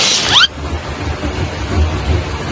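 Heavy rain pours in a steady, loud broadband roar that fills the whole stretch, after a brief higher-pitched squeak at the very start.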